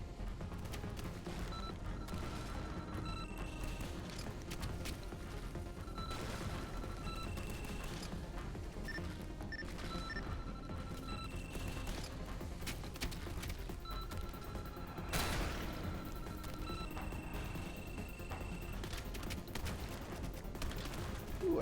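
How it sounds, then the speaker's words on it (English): Missile fire and impacts from a mech piloting video game, a dense continuous barrage of booms, crashes and rapid gunfire-like bursts layered over mechanical game sounds, with a stronger blast near the end. "Let's hit them with the missiles while we can."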